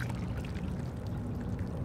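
Calm seawater washing over barnacle-covered rocks at Kits Beach, heard as a close, continuous wet trickling and sucking with tiny crackling clicks throughout, fairly quiet and without voices.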